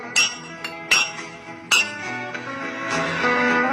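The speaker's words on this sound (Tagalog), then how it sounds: "ipisan ko kining baso sa alak." Glasses of liquor clink together in several bright, separate taps at a moderate distance, with a low murmur of background sound underneath.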